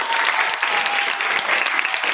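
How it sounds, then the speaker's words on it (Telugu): A room of students at an Indian Red Cross and Rotary Inner Wheel first-aid session claps for a doctor, producing dense, steady applause that stays loud and continuous from start to finish. "గట్టిగా సార్కి ఒకసారి క్లాప్స్ కొట్టండి"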